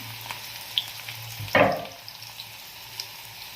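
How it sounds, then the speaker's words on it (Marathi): Chopped onion and green chillies hit hot oil in a crackling cumin tempering, giving a steady sizzle with a sharp burst of frying and stirring midway, close by and with no talking. "जिरे चांगले तडतडले की मग त्याच्यामध्ये कांदा टाकून घ्यायचा कांदा पण टाकल्यानंतर लगेच मिरच्या टाकायचा"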